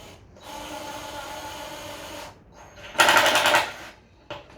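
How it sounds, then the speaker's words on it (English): A power driver sends screws into a wooden cajon, giving a sustained whirring run of about two seconds, a pause, then a louder rattling burst near the close, with no talking. "using a driver, put 2 screws into those holes that we've just made"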